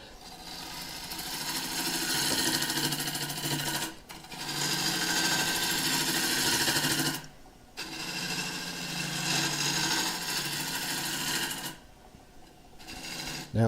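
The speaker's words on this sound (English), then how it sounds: "See if I can squeeze the lathe speed up a little bit." A wood lathe spins an oak burr bowl at about 800 rpm, giving a steady close motor whine that cuts out briefly three times before resuming.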